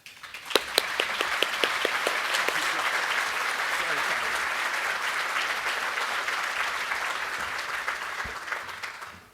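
Sustained applause from an audience welcoming a speaker to the microphone at an oral history event, a dense steady patter of many hands clapping for about nine seconds before fading out.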